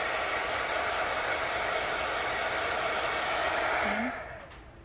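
Hair dryer blows a steady, close, loud whoosh for about four seconds while drying chalk paste on a homespun gift tag, then switches off and winds down at the end, with no one speaking.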